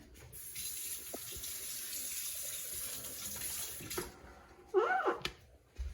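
Warm tap water runs steadily from a kitchen faucet to dampen a paper towel, a continuous hiss for several seconds that stops, followed by faint handling noises and a soft squeak, with no talking.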